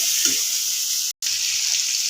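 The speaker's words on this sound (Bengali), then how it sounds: "এটা দিয়ে আমি এই যে ভালো করে নেড়ে চেড়ে কষিয়ে নেবো" Papaya stirred and frying with turmeric in a pan gives a steady, close sizzle with soft stirring scrapes, broken by a brief gap of silence midway.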